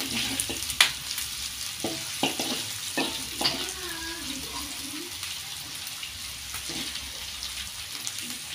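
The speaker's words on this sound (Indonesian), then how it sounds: "pertama-tama kita tumis dulu bawang merah dan juga bawang putih" Shallots and garlic stir-frying in a pan, a soft steady sizzle broken by several light clinks and scrapes of a utensil early on, with faint background noises.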